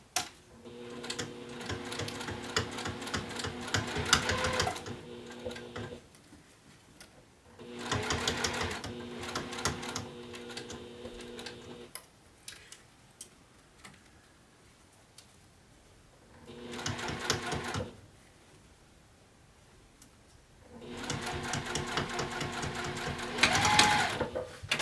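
Sewing machine top stitching a bag's zipper panel, running in several bursts of steady rapid stitching separated by quiet pauses, close and clear.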